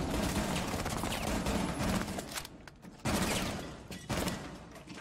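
SMG-11 gunfire in Rainbow Six Siege, dense rapid bursts of automatic shots with short gaps between sprays, loud and close.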